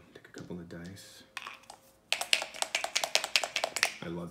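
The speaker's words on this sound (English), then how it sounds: "Let's hear what these dice cups sound like too." Dice rattle inside backgammon dice cups from a VIP backgammon set, a fast run of bright, close clicks and clacks in steady rhythm after someone speaks.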